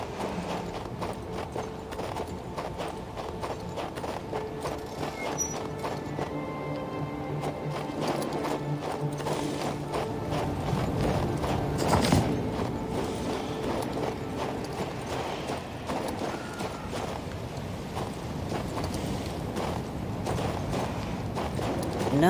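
Horse hooves clip-clopping steadily in King's Bounty II, a fantasy role-playing game, with a calm, obedient horse being ridden through the Highlands; a regular, moderately loud hoofbeat rhythm runs throughout alongside faint mechanical clicking and background game ambience.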